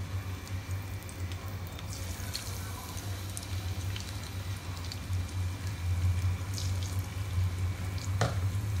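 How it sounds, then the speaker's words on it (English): Marinated fish sizzles in heated oil in a home kitchen, a steady close crackle with scattered pops over a low hum throughout. "Our oil is nicely heated up, so put the marinated fish."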